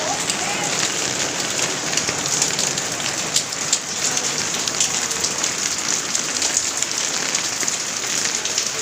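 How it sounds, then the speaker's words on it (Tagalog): Heavy rain pours down steadily, a dense close hiss of drops pattering on surfaces with no letup. "Umulan kasi."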